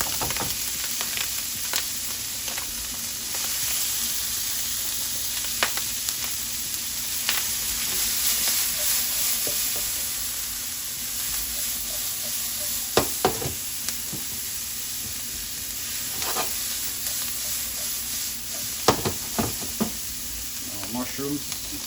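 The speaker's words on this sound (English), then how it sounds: "And here we're gonna go ahead and add our veggies." Chopped vegetables fry with sausage in a hot pan, a continuous close sizzle broken by repeated knocks and scrapes of stirring throughout, with no talk.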